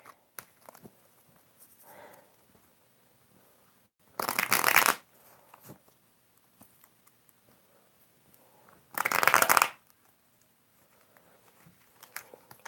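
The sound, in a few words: shuffling tarot cards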